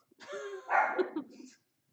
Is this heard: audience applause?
no